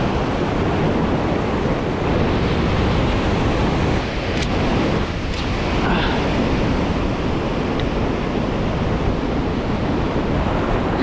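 Ocean waves surge and wash continuously close by, a dense steady roar of surf mixed with wind buffeting the microphone, with no clear breaks.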